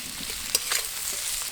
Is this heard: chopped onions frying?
yes